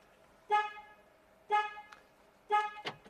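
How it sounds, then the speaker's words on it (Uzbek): Chevrolet Onix remote alarm sounding three short, evenly spaced horn chirps about a second apart, close and clear, followed by a brief quieter click-like tone at the end. "Bor ekan signalizatsiya bunga ham."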